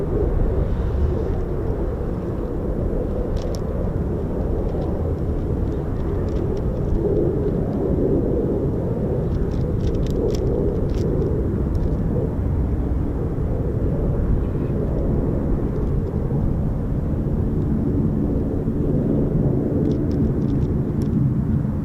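Military jet aircraft from RAF Lakenheath roaring as a steady, loud low rumble that fills the whole stretch without a break, with faint scattered clicks above it.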